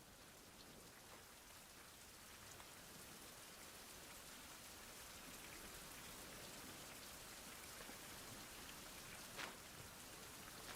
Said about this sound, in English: Nice little rain.